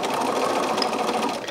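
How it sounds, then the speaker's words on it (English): Sewing machine stitching quilt patches together, a steady fast mechanical whirr and rapid needle chatter running continuously at close range with no talk. "you get it lined up in your sewing machine, and then you have to find the 2 threads, and you start to sew and you sew to the end"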